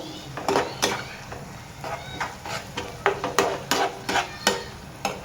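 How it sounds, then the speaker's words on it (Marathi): Tomato gravy roasting in a pan for a dry egg masala, with repeated scraping and stirring strokes over a light sizzle, close and rhythmic, with no talk. "आणि आता आपण टाकूया टमाट्याची ग्रेव्ही टाकूया। हे पण चांगलं व्यवस्थित खरपूस भाजून घेऊ।"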